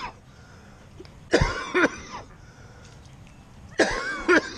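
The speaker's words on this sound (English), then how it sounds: "I'm just coughing." A person with flu coughs in two short fits, each a pair of harsh, close coughs separated by a few seconds of quiet room noise.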